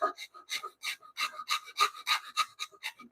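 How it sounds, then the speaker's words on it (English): A hand saw cuts through knotty wood in a home workshop, about a dozen rhythmic rasping strokes in quick back-and-forth succession, close and clear with nothing else audible. "I want to cut right through that thing."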